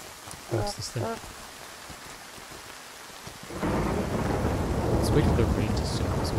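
Rain and rolling thunder in the survival game Nightingale: quiet ambience at first with a few brief voice-like sounds, then a dense downpour surges in and continues steadily, loud and close, with thunder rumbling underneath.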